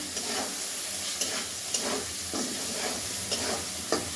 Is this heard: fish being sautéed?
yes